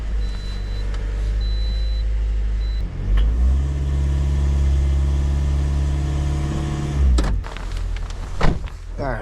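Engine of a 2013 Toyota Corolla idling steadily at close range, a smooth even hum with no audible stumble, ending with a few clunks and a short rev near the end.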